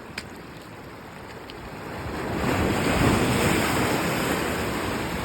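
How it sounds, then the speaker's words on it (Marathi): Sea waves surge and splash against the Konkan coast, a broad roaring wash of water that swells louder midway, with wind buffeting the microphone throughout. "एवढं पाणी मारतंय."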